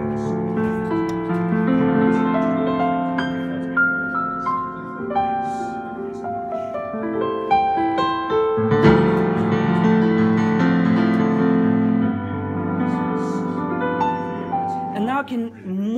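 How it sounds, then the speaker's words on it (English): Yamaha Montage synthesizer playing its CFX acoustic piano sound, a continuous passage of rich chords and runs. Loud and close, with a brief softer ending. "We have this new Cfx Piano, which is amazing. It has 10 dynamic layers."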